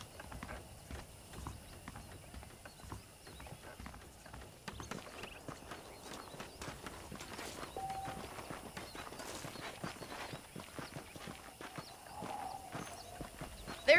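Horse hooves clip-clop steadily at a walking pace in Red Dead Redemption, a quiet, even rhythm of hoofbeats on hard ground with faint background ambience.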